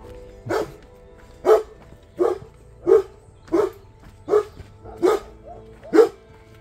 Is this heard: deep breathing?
no